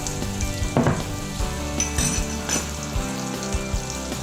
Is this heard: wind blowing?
no